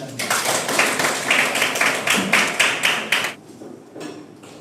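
A group claps in a rhythmic pattern of sharp, evenly spaced beats, loud and close, then the claps stop abruptly and only faint background noise remains.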